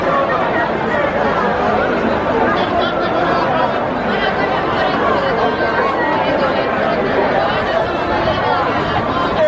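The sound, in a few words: crowd chatter in Shibuya, Tokyo on New Year's Eve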